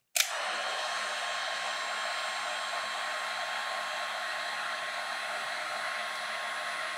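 A heat gun blows hot air onto a salvaged silicon chip, starting abruptly and then holding a loud, steady whooshing roar close by with no talking.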